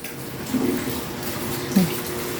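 Tap water runs in a strong, steady rush while children wash dishes, with a few faint knocks and clatters over the even flow.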